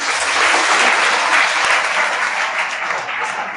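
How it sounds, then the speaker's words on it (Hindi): Sustained applause from an audience at a school exam-results ceremony at Vivekananda Academy, dense and steady, close and loud throughout with no break. "ताली बजाते रहिएगा आप लोग।"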